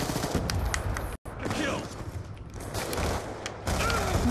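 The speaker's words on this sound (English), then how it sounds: "Oh, it's machine guns" Machine gun fire in the video game Black Ops 2, dense rapid bursts of gunfire filling the mix almost continuously, loud and busy with only a brief gap.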